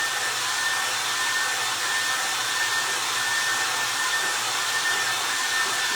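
Hair dryer blowing steadily on a painted tin, a loud continuous close whir with a high whine and no break.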